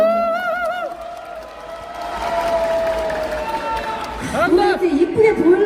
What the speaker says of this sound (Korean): 박수 소리가 영 작습니다